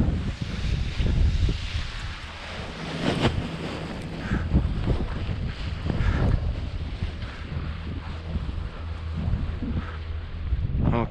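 Strong mountain wind gusts buffet the microphone during a paragliding takeoff in the Swiss Alps above Zermatt, a loud, continuous rushing roar that surges and eases throughout with no speech.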